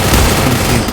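Rapid, dense gunfire from a long-range weapon in a multiplayer shooter game, a loud continuous burst filling the whole moment with no voices over it.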